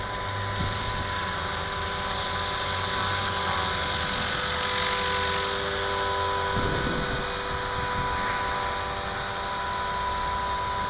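A Walkera V450D01 RC helicopter hovering outdoors in wind, its rotor and motor giving a steady, loud, continuous whine and drone, with a brief gusty rumble midway.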